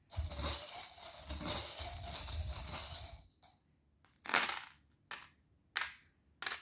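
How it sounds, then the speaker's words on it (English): Small tarot charms clatter out in a dense, rattling pour for about three seconds, then drop in a few separate clinking bursts with silent gaps between them. "So I'm going to pull some charms."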